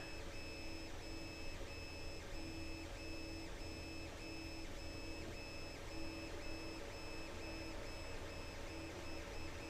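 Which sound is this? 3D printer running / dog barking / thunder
3D printer running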